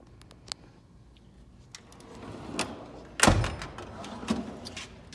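A drawer on a Cornwell tool cart slides and thuds shut, with scattered metallic clicks and rattles of air and electric tools before one loud closing knock.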